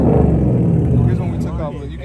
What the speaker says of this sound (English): you can hear when my car steps on it